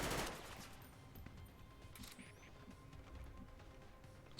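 Gunfire in the video game XCOM 2: a loud opening blast followed by scattered, quieter shots and clatter over a low rumbling game soundscape, with no speech.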